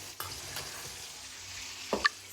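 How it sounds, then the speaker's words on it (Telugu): Vankaya bajji batter, a pinch of soda mixed into the flour with poured water, is whisked in a bowl: soft, quiet scraping strokes and a couple of sharper clinks near the end, with no talking. "ఇప్పుడు వాటర్ పోసుకొని నీట్గా విస్క్ చేసుకుందాం"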